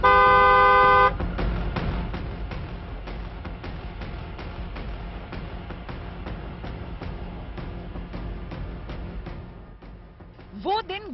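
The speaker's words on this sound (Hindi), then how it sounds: "इसलिए हॉर्न बजाना जरूरी है।" Car horn on a busy road: a loud sustained honk at the start, then steady traffic rumble and engine noise with voices talking over it and another short horn near the end.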